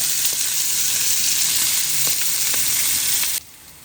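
Potatoes and carrots sauté in a skillet with a loud, steady hiss and a few soft stirring knocks, then the sizzle drops away abruptly at the end.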